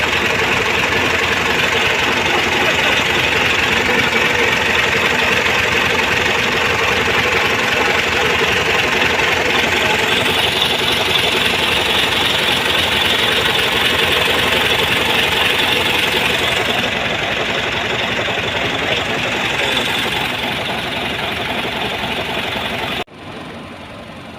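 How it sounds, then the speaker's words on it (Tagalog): A well-kept engine runs at a steady idle in Subic for the whole stretch, a loud continuous drone with a faint knocking texture and no voices, cutting off abruptly near the end. "napakasariwa ng makina ito, napakaganda ng makina"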